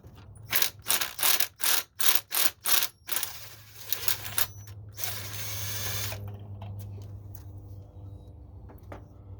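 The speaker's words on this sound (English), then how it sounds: "that spark plug wrench socket does not want to release" A ratchet wrench with a spark plug socket on a 2002 Chevy Colorado clicks in several loud, close bursts, followed by scraping and a low steady hum from the engine bay.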